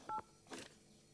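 A short telephone dialing tone plays, one clear beep followed by a fainter blip in a quiet indoor home setting.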